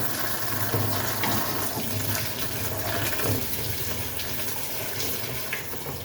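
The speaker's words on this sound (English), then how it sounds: "there's a nice little plug on the bottom of the radiator on the 123 chassis. But you can just undo that and drain that radiator." Coolant drains from the bottom radiator plug of a 1985 Mercedes 300D with the 123 chassis, giving a steady close splashing, running-water rush that carries on unbroken, with no talk.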